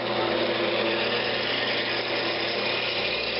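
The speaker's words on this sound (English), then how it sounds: "Got my little spindle gouge. See the lathe." A wood lathe spins steadily while a spindle gouge turns a small Christmas ornament, giving a loud, continuous motor whir with a dense, even hiss and no pauses or talk.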